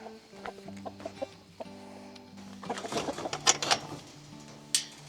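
Several chickens cluck and murmur softly close by, with irregular short calls and a few sharper squawks scattered across the moment.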